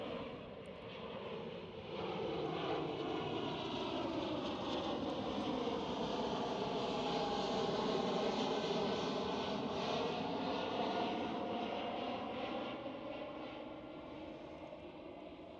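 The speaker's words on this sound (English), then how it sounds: "This is a KLM City Hopper E195 E2." A KLM Cityhopper Embraer E195-E2 jet passes at Schiphol Amsterdam with a long, swelling engine roar that builds, peaks mid-pass and slowly fades, heard from a distance with no talk.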